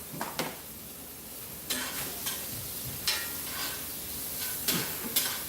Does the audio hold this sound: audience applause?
no